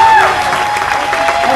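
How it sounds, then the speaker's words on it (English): A live audience at the Bite of Seattle food festival in 2012 claps steadily, a dense wash of applause with a few cheers and voices mixed in, fairly loud throughout. "let's give her another round of applause"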